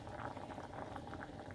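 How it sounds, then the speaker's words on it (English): Vegetables boil hard in a pot for a Korean stir dish, a steady, dense bubbling and churning of water that stays loud and close without a break. "So it's boiling really good."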